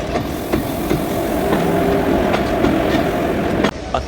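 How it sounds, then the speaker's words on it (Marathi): A passenger train travelling from Kalyan toward Karjat rolls along the rails, with a steady close-up rumble from inside the train and rhythmic clickety-clack wheel knocks at regular intervals, alone without talk. "2 मिनटं पण नाही थांबली, लगेचच ट्रेन निघाली आहे"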